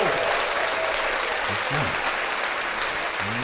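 A studio crowd claps continuously, a dense burst of applause on a hip-hop podcast set, with a voice breaking through briefly under the clapping.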